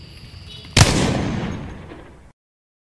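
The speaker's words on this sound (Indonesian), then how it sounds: "saya mendengar suara tembakan dari arah Fatih." A single loud gunshot-like blast in a school-made film about General Sudirman, a sharp crack followed by a long fading decay, then abrupt silence.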